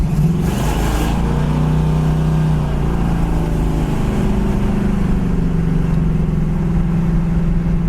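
A black 1979 Pontiac Trans Am SE cruising down the road, its engine giving a steady low droning rumble with a constant hum, recorded close from inside with a brief brighter burst near the start and no talk.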